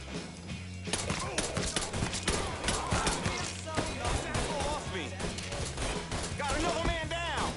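Gunfire in the Mafia 3 video game, rapid bursts of shots and a sustained firefight mixed with game music and voices talking throughout.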